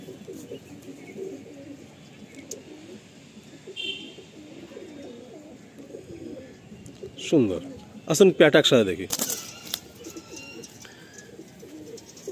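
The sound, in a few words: Madrasi pigeons cooing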